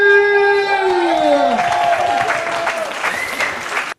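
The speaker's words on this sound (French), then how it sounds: "Mesdames, Messieurs, un tonnerre d'applaudissements pour la dame que l'on nomme" Thunderous applause from a cabaret audience under a marquee tent, loud and continuous, with a sustained tonal sound fading through the first half and a few raised voices mixed into the clapping.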